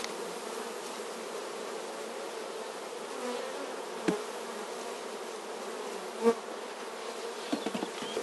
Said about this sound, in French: c'est le temps que les abeilles remontent